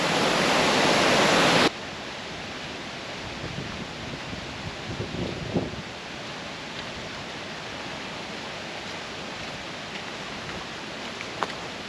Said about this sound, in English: waterfalls are good today though